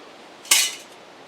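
A camping cook kit handled during a hammock camp gear rundown, giving one short bright metallic clink that fades quickly against a quiet background.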